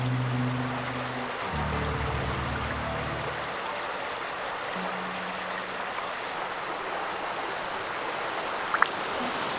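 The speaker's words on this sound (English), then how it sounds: "Another huge plunge pool below a big waterfall." Mountain stream pouring into a large plunge pool below a big waterfall, a steady broadband rush of water with no speech, a brief low hum early on and a small splash near the end.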